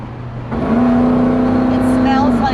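A Pontiac Tempest restomod's engine drones steadily from inside the car while cruising, a loud sustained hum that swells slightly after the start, with people talking over it.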